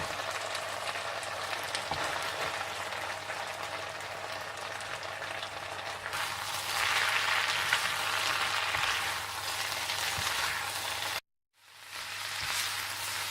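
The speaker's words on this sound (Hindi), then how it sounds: "जब चिकन अच्छी तरह से भुन जाए तो आप इसमें शिमला मिर्चें, टमाटर और बंद गोभी डाल दें और अच्छी तरह से मिला लें" Chicken with capsicum, tomatoes and cabbage sizzles in a pan, a steady close crackling hiss that swells a little in the middle, then cuts out briefly before resuming.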